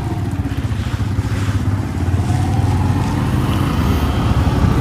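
A motorcycle ridden along a road in Tarim, Hadramaut, with its engine droning steadily and loudly close by and rising slightly toward the end, under wind rush.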